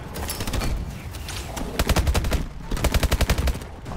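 Rapid automatic gunfire from the video game Call of Duty: Advanced Warfare, loud close bursts of rattling shots in quick rhythmic volleys with brief pauses between them.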